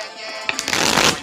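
Tarot cards are shuffled in a quick riffle of papery flicks building into a dense, crisp flutter over about a second, close and fairly loud.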